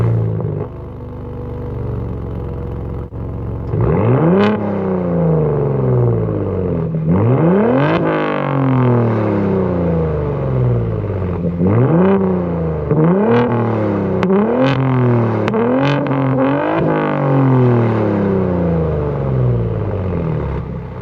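A Gen 3 Ford Raptor with an AWE exhaust fitted bolt-on roars through repeated loud revs, each sharp climb dropping back before the next, in a rapid series of close, aggressive blips with a rumbling idle between.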